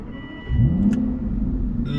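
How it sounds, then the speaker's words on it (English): Aston Martin Rapide V12 engine firing up after a short quiet moment, then settling into a deep, loud, rumbling idle with a slight rev, heard close and without talk. "You can hear that rumbles from the V12 engine"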